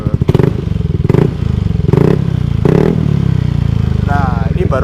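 A Yamaha NMAX 155 scooter fitted with a Tridente exhaust set to street mode idles with a loud, close, throbbing putter and a few short blips of revving, while someone talks over it.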